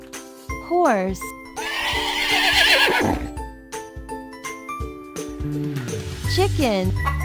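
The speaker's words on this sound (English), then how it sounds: "horse," A horse neighs in a kids' animal-and-dinosaur game, a loud, close whinny with falling pitch, set among other animal calls and short musical jingles, with a voice briefly speaking.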